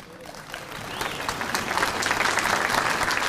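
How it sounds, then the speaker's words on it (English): Audience at a youth conference in Bengaluru breaks into applause to welcome a speaker, the clapping swelling from scattered hands to a loud, dense roar of the crowd. "I request all of you to welcome him with a big applause."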